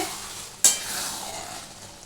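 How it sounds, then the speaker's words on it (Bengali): Mutton keema cooking in a pan sizzles and bubbles softly, opened by a sharp utensil clatter followed by a steady hiss that gradually fades, quiet and close, no voices. "দেখো এটা ফুটছে"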